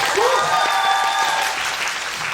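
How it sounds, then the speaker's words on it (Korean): A theater audience at the opening-night stage greeting of the musical The Devil: Eden claps steadily for a musical actress, a full, even wash of applause with a faint sustained musical tone underneath. "큰 박수 부탁드립니다"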